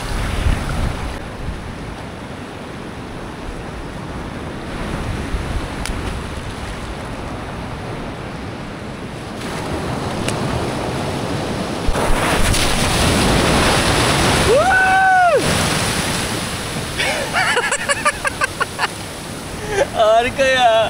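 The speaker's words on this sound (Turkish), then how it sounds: "Bakın dalga nasıl geliyor." Ocean waves roll in and break on a beach in Sri Lanka, a steady wash of surf with wind buffeting the microphone, while people talk and exclaim excitedly over it.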